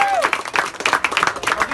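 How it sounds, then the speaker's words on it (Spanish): Clapping from a small audience at a Spanish-language freestyle rap battle qualifier, sharp claps in an uneven burst, close and fairly loud, with voices and shouts mixed in. "Un aplauso para Panqueca"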